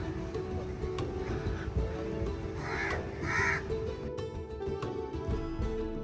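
Crows caw outdoors near a fruiting tree, a few harsh calls rising above faint background ambience at moderate distance, with short pauses between them.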